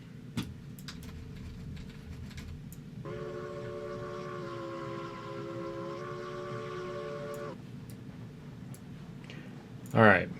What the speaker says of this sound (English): That is one long train.